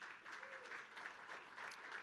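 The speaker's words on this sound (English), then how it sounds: "A big round of applause for all the projects over here." Faint, distant applause from a crowd at a Polygon Build.so demo day for the presented projects, a soft, uneven patter of clapping with a few swells, set back in a large room.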